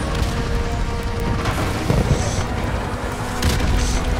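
An explosion in the video game Call of Duty: Modern Warfare Remastered, a dense loud rumbling blast with debris-like crackle that carries on steadily throughout.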